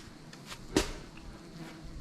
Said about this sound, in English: I put my wet clothes drying on the tent and look how many bees